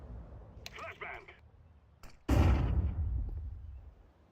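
Flashbang grenade going off in Counter-Strike, a sudden loud broadband burst after a couple of softer clicks, followed by a sustained rushing ringing noise that slowly fades over a few seconds.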